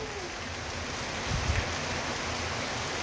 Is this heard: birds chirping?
no